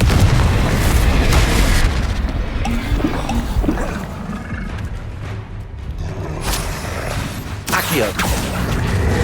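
Confringo blasting-spell explosions in the Hogwarts Legacy video game sound as dense, booming blasts over continuous loud combat rumble, with a sharper burst near the end.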